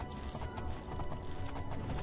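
The horse Shadowmere gallops in the video game Oblivion, giving a dense, steady run of rapid hoofbeats against constant background noise, with no talking.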